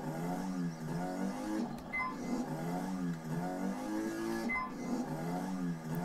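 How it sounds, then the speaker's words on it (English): Motorcycle engine in the Trials video game, revving in repeated mid-pitched surges with a steady droning buzz throughout, loud and close with no talk over it. "Boy, have we got motorcycle sounds for you."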